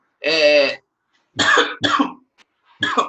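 Several short, harsh coughs in quick bursts, the first one longer and voiced, the rest clipped and dry, close to the microphone.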